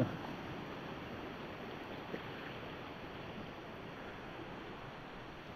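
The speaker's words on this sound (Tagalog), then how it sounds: "Medyo lumalakas na yung agos ng tubig." A strengthening river current flows along a rainy Sierra Madre trail between Mauban and Cavinti. It makes a steady, broad rushing wash with no voices, and one faint knock sounds briefly partway through.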